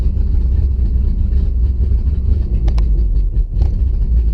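A car engine fitted with Holley Sniper fuel injection idling roughly with a choppy, uneven idle, a loud, close, low rumble that runs continuously with a couple of faint clicks near the end and no talking.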